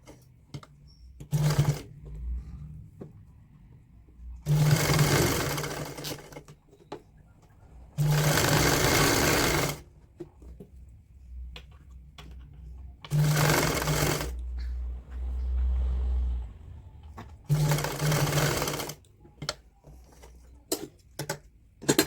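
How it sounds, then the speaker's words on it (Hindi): Short bursts of a sewing machine stitch the leg seam of a woollen pajama for a two-year-old, each run a loud close whir starting and stopping, separated by quiet pauses with light clicks and handling. "अब हमने एक पैर से दूसरे पैर तक पजामे की सिलाई करनी है।"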